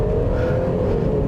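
A 2020 Mercedes-Benz GLC 300 Coupe SUV accelerates on the road, its engine note rising in a brief, steady, close-up surge with no talking.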